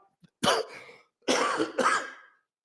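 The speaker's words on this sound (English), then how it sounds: "excuse me for this cough" Three harsh coughs from one person, close and loud: a single bark, a pause, then two quick coughs in a row, with silence around them.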